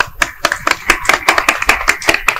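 A few people in a village gathering clap hands at a singing performance, sharp separate claps in a loose, uneven rhythm, fairly close and alone without talk.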